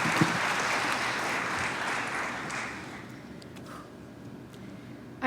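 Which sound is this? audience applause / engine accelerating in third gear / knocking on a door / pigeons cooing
audience applause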